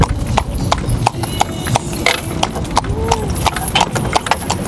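Horse hooves clip-clop in a steady rhythm on a hard street in Guyana, with a continuous background rumble of traffic or wind underneath.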